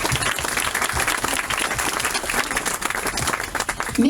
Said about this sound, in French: Je pense qu'il faut les applaudir